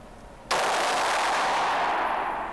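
A gun fires from about half a second in, a sudden loud broadband blast that stays sustained and dense to the end, like rapid or overlapping gunfire with no voices.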